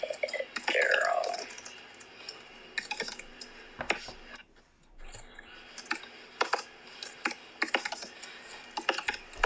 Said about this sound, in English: now just let me type this in